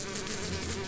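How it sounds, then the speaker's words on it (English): Swarming flies from the plague of flies on Egypt, a steady close insect buzz that drones continuously for under a second with no talking. "flies,"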